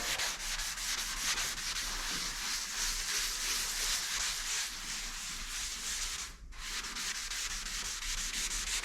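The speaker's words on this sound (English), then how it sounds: "just taking an old little scuff pad thing here. Just going to give this a little rub." An old scuff pad rubs back and forth over a rusty panel on a Ford XW, giving a steady, close abrasive scrubbing that runs almost without pause, broken by one brief gap.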